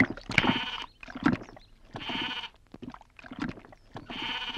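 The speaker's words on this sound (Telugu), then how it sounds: "మేక నమ్ముకురమ్మని పంపిస్తే మరిది గారు మళ్ళీ వెనక్కి తెచ్చారెందుకో?" A goat bleats in repeated loud, wavering calls, four or five bursts spaced through the clip with short pauses between them, close by and with no talk over them.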